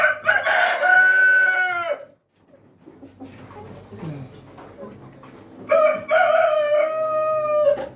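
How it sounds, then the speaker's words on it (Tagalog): A Rhode Island Red rooster crows loudly and close by, two long full crows separated by a quieter stretch of clucking and farmyard noise. "Yung rooster natin. Yan, Rhode Island."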